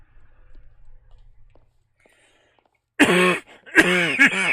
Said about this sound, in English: I'm coughing like mad because of the pollen.